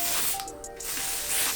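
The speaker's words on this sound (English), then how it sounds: "I'm gonna use this ebon lace spray" Lace spray is misted onto a wig in a few quick, soft hissing bursts at close range, quiet against faint background music.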